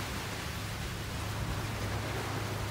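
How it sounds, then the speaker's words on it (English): Heavy thunderstorm rain driven sideways pours steadily onto a small 1976 Ventura camper under renovation, a dense, even hiss with a low rumble beneath it and no talking. "Rain's coming in sideways."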